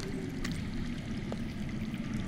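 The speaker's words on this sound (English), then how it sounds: "I hear water. From underground." Running water flows underground in a steady, continuous rushing wash that stays fairly loud and close throughout, with no voices over it.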